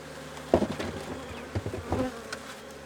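Disturbed honey bees buzzing around a hive after it is knocked, faint close buzzing with a few sharp knocks and rustles between the drones.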